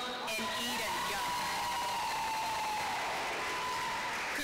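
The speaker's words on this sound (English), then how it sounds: "Let's give them another nice round of applause." Audience applause at a high school graduation ceremony, a continuous distant wash of clapping with faint cheering filling the whole stretch, with some voices mixed in.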